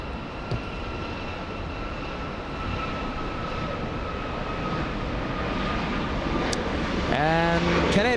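A WestJet Boeing 737 Max 8 jet departs for Vancouver, a steady broadband engine roar with a sustained whine that holds throughout and swells slightly near the end. Speech-like tones briefly break in at the close.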